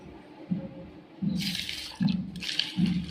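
Water is poured over pulses in a container for soaking and sprouting, giving two bursts of close splashing and trickling, with soft low thumps of handling in between and no voices.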